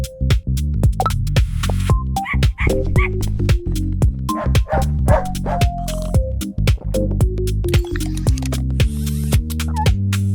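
A dog in an AI-generated scene barks, yips and whimpers in rapid repeated bursts, loud and close over a steady electronic hum.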